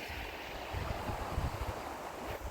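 Sea waves wash softly ashore at Kryzhanivka, a quiet, continuous surf hiss mixed with light wind buffeting, with no voices heard.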